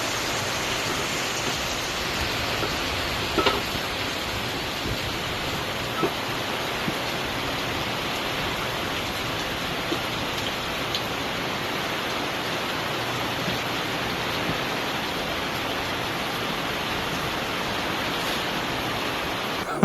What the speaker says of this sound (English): 2 days ago we had about 20 mil of rain hit Perth in 30 minutes